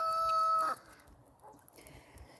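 A backyard chicken makes a short, loud call close by, lasting under a second, followed by quiet background.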